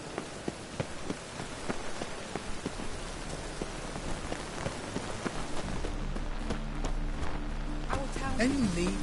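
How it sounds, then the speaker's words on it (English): Steady rain pours down in the Witcher 3 video game, a dense hiss of drops spread evenly across the scene, with a low musical drone and a whistling tone rising near the end. "Looks like rain."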